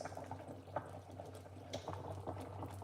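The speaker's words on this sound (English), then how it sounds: "We are steaming the broccoli and the cauliflower." Broccoli and cauliflower steam in a pot over a little water, giving a steady close bubbling and simmering hiss with small pops and splutters throughout, no talking.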